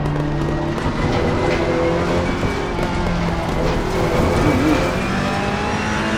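Simulated car engine from a racing video game driven with a Logitech G29 wheel in manual mode, a steady loud drone with shifting revs and no gaps throughout.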